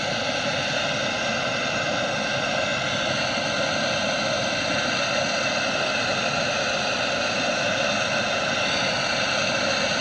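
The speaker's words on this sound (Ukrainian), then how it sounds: "Так, друзяки, розгорається наш генератор" A smoke generator for cold-smoking grass carp fish roars with a steady, loud, airy rush like a blower, unbroken and close throughout.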